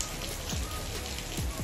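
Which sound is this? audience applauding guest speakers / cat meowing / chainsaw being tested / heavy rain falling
heavy rain falling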